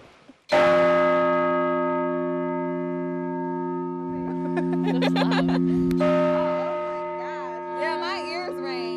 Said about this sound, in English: this bell from the Lansing City Hall clock tower